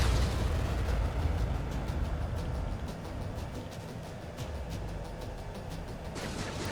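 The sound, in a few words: missile explosions in the video game Ace Combat 7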